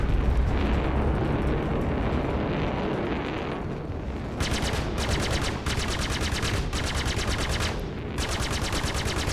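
Tarantula guns on a Gladius fighter in Star Citizen fire in rapid thumping bursts over a dense, roaring wash of explosions and engine noise, the bursts starting and stopping several times, loud and close.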